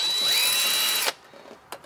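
A power driver whirs steadily for about a second while backing out the rear cover screws of a Sta-Rite spa pump, then cuts off, followed by faint clicks and a brief tool noise.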